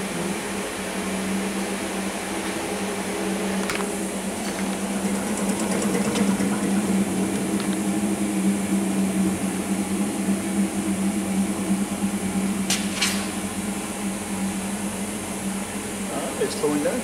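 A launderette washing machine spinning an unbalanced load and slowing down, a steady mechanical hum and whir that continues throughout, with faint voices in the background.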